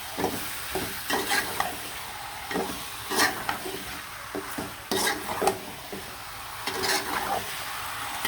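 Chicken pieces being stirred and mixed with spices in a pan, soft sizzling underneath with irregular scraping strokes of the spoon, fairly quiet and close, with no talking.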